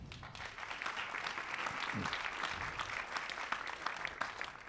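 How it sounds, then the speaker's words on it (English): Steady audience applause at a performance event, a continuous, moderately distant wash of many hands clapping without voices. "we give her a round of applause?"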